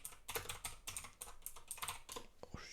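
Rapid, irregular clicks come from fingers typing on a computer keyboard as a search is entered. The keystrokes are close but quiet, with no talking.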